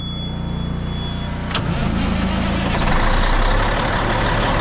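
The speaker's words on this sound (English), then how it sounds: "C500 Kenworth fired right up." An abandoned Kenworth C500 truck cranks and its engine catches around the middle, the starter whine giving way to a deep, loud rumbling idle that builds and settles close by.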